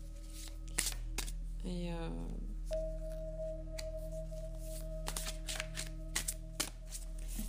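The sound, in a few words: shuffling and drawing oracle cards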